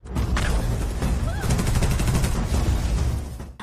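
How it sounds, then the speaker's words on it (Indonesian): Gunshots fire at planted explosives in an action scene from an Indian film. A dense, loud fusillade of rapid shots and blasts rolls on without a break, with a soundtrack mixed underneath. "Lalu Subra menembaki peledak yang ditanamnya agar tidak mengenai istrinya"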